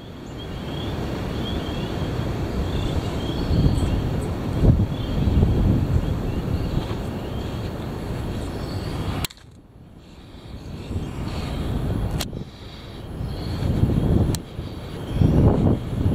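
Heavy wind blows in a loud, rumbling roar that buffets the microphone and comes in gusts, with a brief lull partway through and a few sharp knocks.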